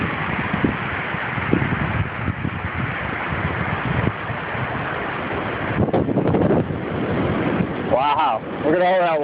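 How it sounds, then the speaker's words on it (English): Big ocean waves at Coronado Beach surge up the sand, a loud continuous roaring wash with heavy wind noise buffeting the microphone throughout. "Well, here comes the wave coming in."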